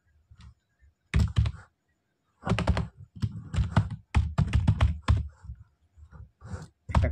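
Someone types an address on a computer keyboard in quick bursts of key clicks separated by short pauses, close and clear with no talking.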